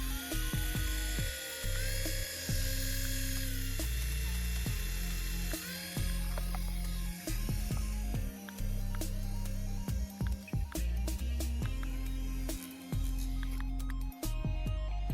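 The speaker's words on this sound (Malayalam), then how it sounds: "ഇനി എന്തായാലും നമുക്ക് ഈ ഒരു ഹെലികോപ്റ്റർ ആണെങ്കിൽ ഒന്ന് ഓടിച്ച് നോക്കാം" A remote-control toy helicopter flies steadily, its small motor giving a loud, continuous whine with shifting pitch as it speeds up and slows, broken by brief clicks and dips over about fifteen seconds.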